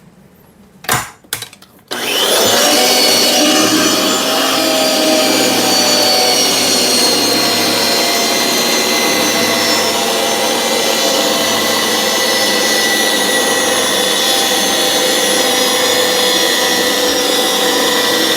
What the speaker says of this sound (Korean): 나사 절삭이 모두 끝났습니다.